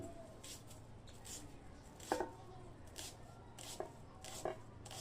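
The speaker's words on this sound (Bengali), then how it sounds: "এই দেখেন কিভাবে কেটে নিতেছি।" Radish being cut with a knife, a faint series of irregular soft chops and taps against a quiet room hum, without speech.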